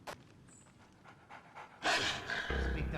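Dogs panting in the Splinter Cell game, a steady breathy rhythm that grows louder and denser after a couple of seconds, with faint game ambience and a brief tone beneath.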